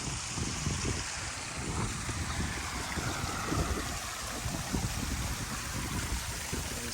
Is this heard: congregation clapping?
no